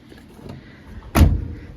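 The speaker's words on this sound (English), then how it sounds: "Door shuts good." A single solid car door slam, loud and close, with a brief low thud and a short rattle trailing off.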